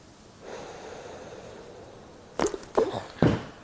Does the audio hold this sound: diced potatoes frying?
no